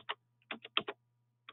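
A few quick plastic calculator key taps in short bursts, close and crisp, with brief pauses between them and a faint hum behind.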